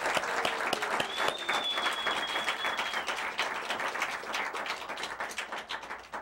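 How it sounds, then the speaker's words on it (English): An audience at a midnight show breaks into dense applause, clapping busily and staying fairly even, with a brief whistle-like tone rising over the crowd early on. "We have a round of applause."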